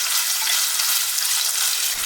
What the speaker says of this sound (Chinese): 小火煸炒出五花肉的香味